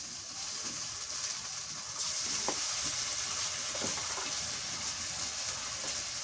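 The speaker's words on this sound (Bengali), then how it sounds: "পেঁয়াজ বাটা দিই" Ground onion paste hits hot oil in a pan while a Bengali rui fish curry is being cooked, giving off a constant hissing sizzle with a few brief stirring scrapes and no talk.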